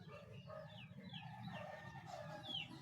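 Soft, low murmuring clucks from several brooding hens sitting on eggs, close and continuous, with a few higher chirping notes rising above; no talking.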